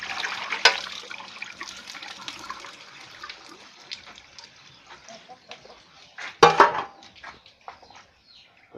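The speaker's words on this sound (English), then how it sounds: "You take that water and you dump it." Water sloshes and splashes as it is tipped out, with a loud gush near the middle and softer trickling and dribbles after.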